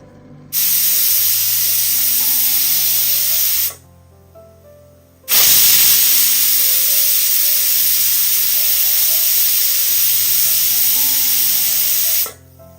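A pressure cooker on the stove hisses loudly with a steady, high steam whistle, pausing briefly once before resuming at full strength for several seconds.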